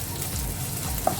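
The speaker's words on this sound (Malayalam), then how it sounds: "അപ്പോൾ അതൊന്ന് മൂപ്പിച്ചെടുക്കാം എണ്ണയിൽ." Garlic frying in oil for a Kerala banana stem dish, a short steady sizzle with a small tap near the end.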